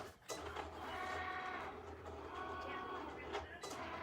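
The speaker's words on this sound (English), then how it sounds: "the circles are being cut right now" A vinyl cutting machine cuts sticker circles, giving a faint, steady mechanical whir with small clicks and shifting tones as the blade carriage moves, close by in a quiet room.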